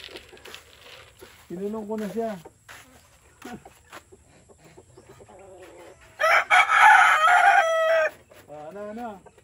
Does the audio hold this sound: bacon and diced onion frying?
no